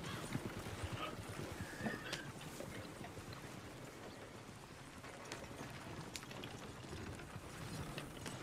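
Steady clip-clop of horse hooves in the video game Red Dead Redemption 2 plodding along under a busy ambient wash, with occasional creaks and ratcheting mechanical clicks.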